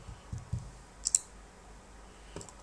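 A computer mouse gives a couple of quick, faint clicks close to the microphone, set against a quiet room hiss.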